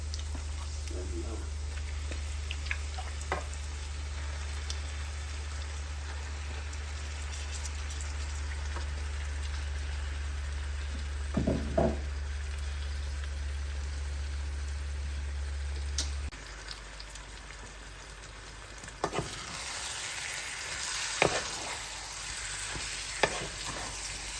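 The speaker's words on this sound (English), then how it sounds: "So I'm going to add 1 kilo of lamb to this." Lamb frying in a pan with curry powder for a shatkora curry, a steady close sizzle with occasional stirring scrapes and brief talking.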